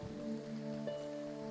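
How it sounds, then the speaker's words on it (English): Steady rain falls in Graveyard Keeper, a soft even patter over a sustained musical drone, with no talking. "And it's raining."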